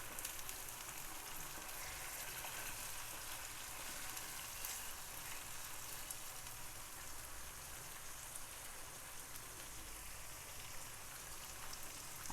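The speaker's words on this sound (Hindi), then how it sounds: "अब इसके अंदर हमने ये चिकन डाल देना है और इसको भी इसके अंदर फ्राई करेंगे" Chicken pieces frying in a pan for a desi chicken masala, a steady, dense crackling sizzle that runs unbroken and fairly quiet throughout, with no voices.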